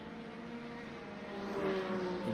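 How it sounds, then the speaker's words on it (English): A race car revs in a pit garage in a racing video game, a steady droning engine tone that builds slightly louder toward the end, with no talk. "In the garage, you can hear him revving the car."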